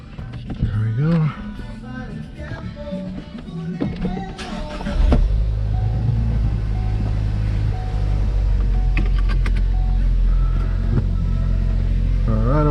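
A Ford Focus ST with a Mishimoto charge pipe kit fitted drives on a test drive, its engine a steady low rumble that swells and holds loud once it pulls away, with speech over the first few seconds.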